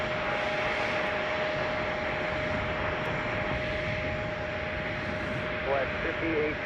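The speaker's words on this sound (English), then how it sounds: "we've got a UPS MD-11 that's going to be landing shortly" A UPS MD-11 jet comes in to land at Chicago O'Hare, its engine roar a steady, broad rumble with a faint whine running throughout. The noise holds at a constant level from start to end.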